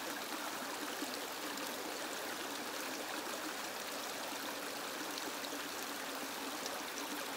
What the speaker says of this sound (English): Just listen to the sound of the running water.